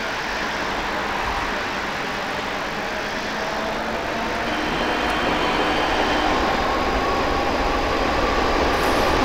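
A Berlin subway train of the F79/F90 series in the MSTS railway simulator runs with a steady electric motor drone and rolling rumble, loud and constant throughout with a faint rising whine, no one talking.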